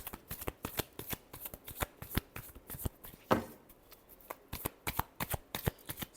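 Tarot cards riffle and slap in a rapid, continuous shuffle, crisp and close, with short bursts repeating throughout and one brief louder rustle partway.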